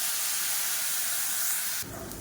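Loud, steady hiss of water hitting a hot pan of sautéed onion and dried red chillies for chicken vara milagai pirattal, the sizzle dropping sharply in the last half-second.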